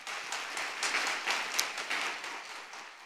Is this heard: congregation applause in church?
yes